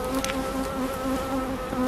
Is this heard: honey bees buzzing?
yes